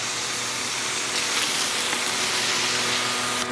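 Blahst pressure washer jetting water to wash grime off a driveway, a loud continuous hiss of spray close by, steady for the whole stretch with no voices.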